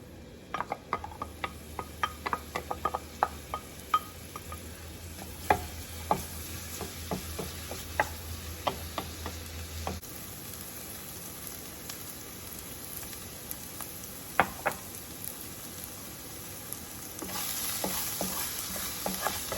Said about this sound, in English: Then I'm going to start out by adding my onions.